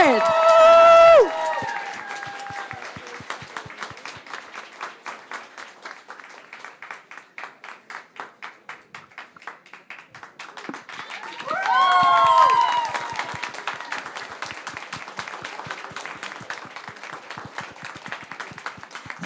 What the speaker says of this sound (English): More applause to the winners of the Audience